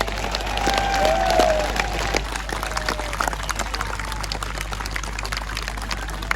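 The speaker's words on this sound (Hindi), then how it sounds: "जरा हाथ उठा के जोरदार ताली में बताइए कि कितना जोश है आप में" A large crowd at a political rally at D-Chowk claps loudly and continuously, a dense wash of applause that eases slightly after a couple of seconds, with a faint voice or whistle briefly heard over it.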